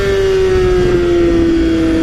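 A Honda CBR250RR motorcycle engine screams at high revs, a loud steady high-pitched wail held close up with no voices.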